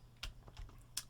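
Keys clatter on a computer keyboard during a ZX Spectrum game of Elite, three or four quick separate taps spaced irregularly over about a second, faint and close over a low steady hum, with no voices.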